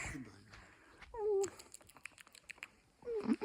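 A cat meows softly a couple of times close by, amid quiet rustling and faint background noise.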